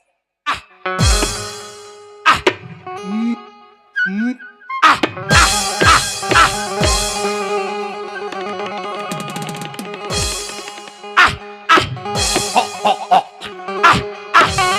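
A man imitates a growling, yapping dog during a Chhattisgarhi folk nacha stage performance, bursts of vocal growls and yips broken by pauses, close and loud, mixed with other voices talking.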